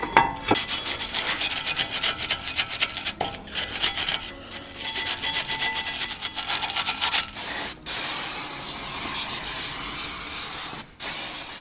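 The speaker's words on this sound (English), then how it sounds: "We'll get the wire brush, give that a clean out, wire brushing and brake cleaner." Wire brush scrubbing a front brake caliper on a 2017 Skoda Superb during a pad change: steady, close, harsh bristle rasping in long strokes, broken by a few brief pauses, with no talk.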